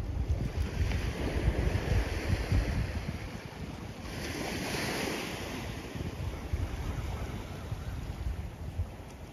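Ocean waves wash and break on Sunset Beach in Khao Lak, Thailand, a continuous rushing roar with gusts of wind buffeting the microphone.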